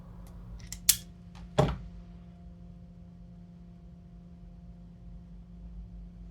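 Wire cutters snip and trim a wire on a 6S Li-ion battery pack built from Tenpower 50XG cells, giving a few sharp, close clicks in the first two seconds over a steady low electrical hum, then quiet.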